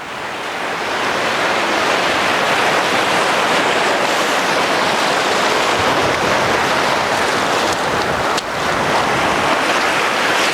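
Ocean waves wash steadily onto a Hawaiian shore where seaweed grows, a loud continuous roar of surf with some wind buffeting, no voices.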